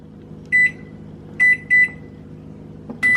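Microwave oven heating a bowl of almond milk oats for two minutes, its low steady hum running throughout while a high electronic beep sounds once, then twice in quick succession, then once more.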